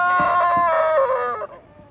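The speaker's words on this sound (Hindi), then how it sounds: "ये गोल्डन मुर्गा है, देसी, असील नहीं है।" A golden desi rooster crows once in a loud, close, drawn-out call that rises and then trails off.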